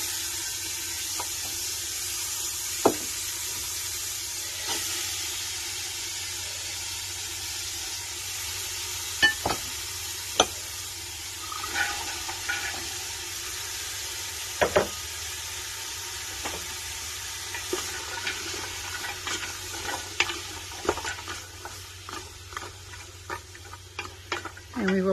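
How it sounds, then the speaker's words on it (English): Carrots, celery and onions sizzle softly in oil in a pan, a continuous gentle frying hiss broken by occasional clicks and stirring taps. "I'm now going to add the carrots, celery, and the onions to saute for approximately 10 minutes"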